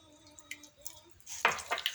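Water splashes and trickles in a few short, close pours into a dough mixture, the sounds bright and wet against a quiet room.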